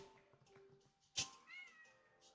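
A cat named Figaro gives a single short meow, close and clear, with faint household sounds before and a softer trailing vocalization after.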